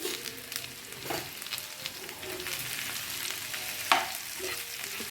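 Food mixed with rock salt and roasted cumin in a pan, with a soft crackling sizzle and repeated scraping stir strokes, one sharper clink near the end.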